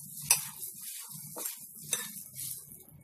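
A spoon stirs and scrapes through thick aloo pakoda batter of potato and maida flour in a bowl, with a few sharp clinks against the side over a soft, continuous mixing rustle, close up and with no talking.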